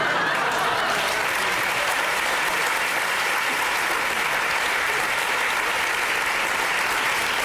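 Theatre audience applauding a comedy stage show, dense continuous clapping at an even, loud level throughout.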